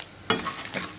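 Chana dal, urad dal and peanuts being sautéed and stirred in a pan, a quiet bed of sizzle broken by two brief scraping stirs, close and faint.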